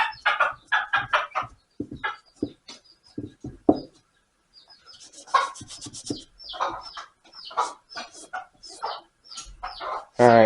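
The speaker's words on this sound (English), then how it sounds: "Chicken just walked in the door." A chicken wanders into a workshop during an engine restoration, giving short, choppy clucks in irregular bursts, with someone talking at times in between.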